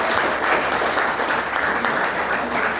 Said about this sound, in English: How about a round of applause for these two professional fighters,